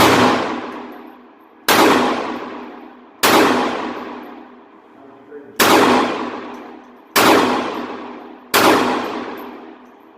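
Six loud, sharp pistol shots from a Ruger LCP II at an indoor, low-lit shooting range, each a sudden crack with a long ringing decay, fired at an uneven pace roughly one to two seconds apart.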